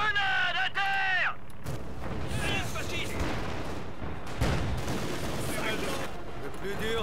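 A grenade explodes in the Company of Heroes 2 video game with deep booming blasts and rumbling artillery-like fire under battle noise, as voices speak over the din.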